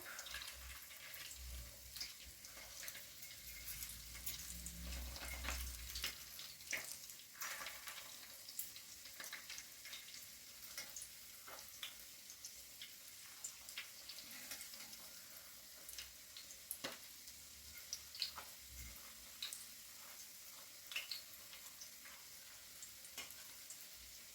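Steady oil sizzling and crackling from egg and onion fritters frying in a pan continues throughout, with occasional clinks and light scraping as they are turned with two forks.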